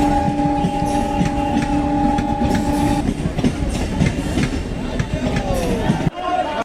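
Express train rolling past on railway tracks in Bihar, a loud steady rumble with clattering wheels and a sustained horn blast early on, then a second shorter horn near the end as the noise cuts off abruptly.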